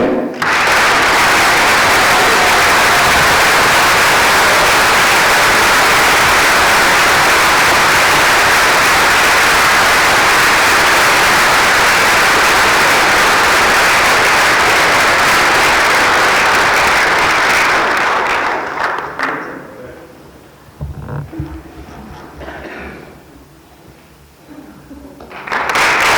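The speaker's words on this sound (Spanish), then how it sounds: "Un aplauso para Ángel Gómez Moreno." Audience at a tribute event honouring Marcelino Camacho and class trade unionism, applauding loudly and continuously for about eighteen seconds, then fading into quieter scattered clapping and room noise.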